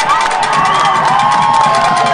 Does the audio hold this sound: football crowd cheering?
yes